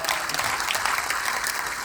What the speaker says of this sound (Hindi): एक बार जोरदार तालियां चाहूंगा।